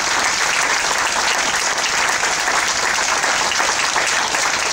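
Sustained, loud audience applause after a live music performance at a Ventura venue, a dense even roar of many hands clapping with no break for nearly five seconds.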